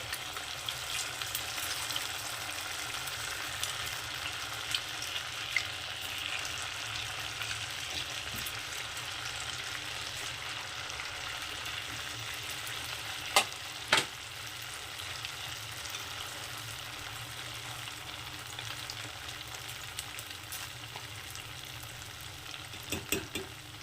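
Semolina langcha sweets fry in oil over medium heat, giving a steady, moderate bubbling sizzle with a few brief utensil clicks and no talking.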